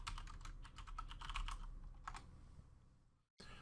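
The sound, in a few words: typing an app name into the Play Store search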